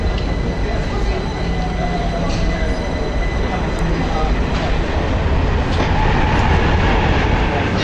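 A London Underground train arrives at a station, rumbling steadily close by, with rattling wheels, a faint squeal and brief clanks; a voice murmurs faintly under the noise.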